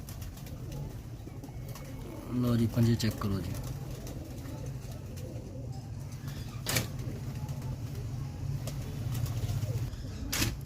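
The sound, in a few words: breeder pigeons cooing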